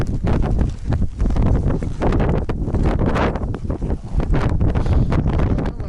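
Strong gusty wind on a mountain descent near Khan Tengri buffets the microphone in a constant rumbling roar, with rustling bursts and no voices.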